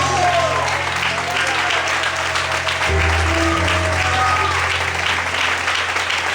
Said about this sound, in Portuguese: Dá glória a Deus e aplauda.